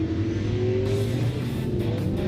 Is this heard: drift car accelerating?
yes